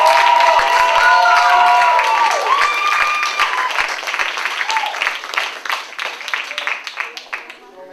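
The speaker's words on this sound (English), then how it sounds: "a round of applause for Chris" Audience applause with scattered cheering greets Chris at a staff awards event, loud at first and fading gradually across several seconds, with voices calling out over the clapping.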